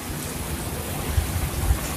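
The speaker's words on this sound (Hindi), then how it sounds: "और वहाँ से आपको ये झरना सुंदर सा दिख जाता है। जैसा कि आप यहाँ पे इसकी आवाज़ को सुन पा रहे होंगे" Waterfall in Magic Valley near Malana, Himachal Pradesh, heard as a steady broadband rush of falling water with a few low thumps, with no talking.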